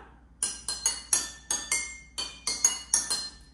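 Water xylophone made of glasses filled with water, struck one at a time in an even run of about ten bright, ringing clinks at differing pitches, close and clear.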